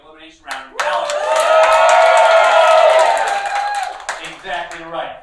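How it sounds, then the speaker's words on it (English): A comedy club audience at a live stand-up show lets out a loud, swelling cheer with whoops and clapping, peaking for a couple of seconds before fading into scattered claps. "A huge cheer."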